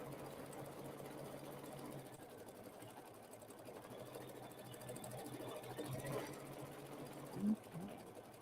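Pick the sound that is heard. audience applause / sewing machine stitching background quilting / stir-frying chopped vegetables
sewing machine stitching background quilting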